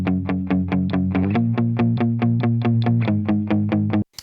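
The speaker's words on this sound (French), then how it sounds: "notamment quand c'est comme ça des chugs mutés, c'est difficile de réverbérer ça en général" Palm-muted electric guitar chugs with reverb, a steady run of about twenty evenly spaced, loud distorted hits over roughly four seconds before stopping abruptly.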